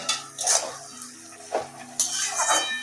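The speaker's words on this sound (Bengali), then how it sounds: "মাঝে মাঝে এরকম নাড়িয়ে দিতে হবে ঢাকনাটা তুলে, যাতে সব লাউগুলো সমানভাবে সিদ্ধ হয়।" A spoon scrapes and clinks against a pot while bottle gourd curry with fish roe is stirred under a lifted lid, three or four sharp metallic knocks over a soft simmering hiss, close and alone.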